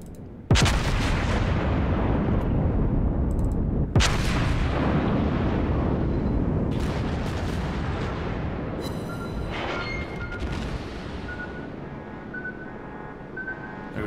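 Main guns of the Iowa battleship fire in World of Warships: a huge booming salvo followed by another heavy blast, with long rolling rumbles and a continuous background roar.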